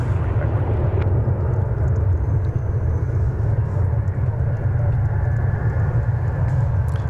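Airbus A321 airliner taking off at DFW Airport, a steady loud low engine roar and rumble heard from a distance, sustained throughout without letup.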